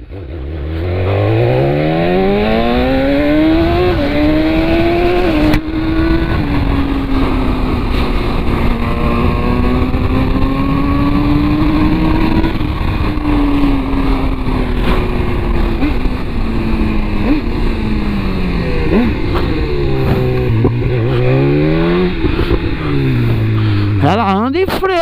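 BMW S 1000 R motorcycle fitted with an Atalla header and Akrapovic exhaust, heard while riding: loud, close engine revving up and down through gears with rising and falling pitch sweeps, continuous throughout.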